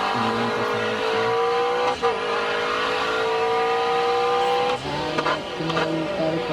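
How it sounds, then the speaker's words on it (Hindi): Race car engine in the mobile racing game Autogrid, loud and sustained with steady high-revving tones that rise and drop sharply through gear shifts, with brief dips and changes in pitch, no talking over it. "इंजन का साउंड सुनो"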